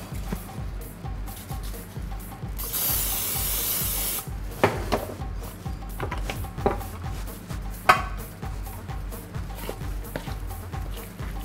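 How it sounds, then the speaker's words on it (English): A steady hiss of cooking spray into a baking pan lasts about two seconds, followed by clinks and knocks of the pan being handled. "Spray the pan."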